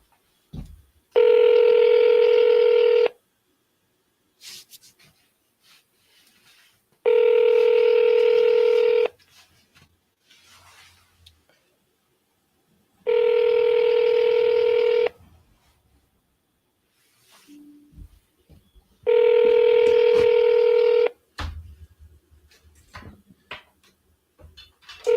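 A telephone line gives four evenly spaced ringback tones, each about two seconds long, steady and clear, with quiet gaps between them.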